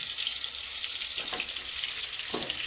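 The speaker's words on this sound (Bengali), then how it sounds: "এদিকে আলুগুলো ভাজা হোক।" Potatoes frying in hot oil for a chicken curry, a steady bright sizzle running throughout with a couple of faint clinks of utensils, fairly close and with no talking.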